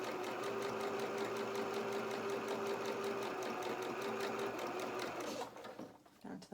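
A sewing machine top-stitches a doll's winter dress, its fast even rattle running loud and close for about five seconds before stopping, followed by light fabric handling.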